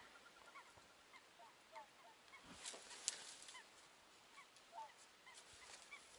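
Distant ducks call faintly over a lake at a spring hunt, with scattered honking quacks rising above quiet outdoor ambience and one brief sharp click near the middle.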